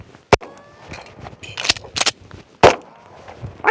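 An Atlas Gunworks Erebus pistol is handled and fired, with two sharp loud shots among a string of metallic clicks and clacks from reloading, close and dry.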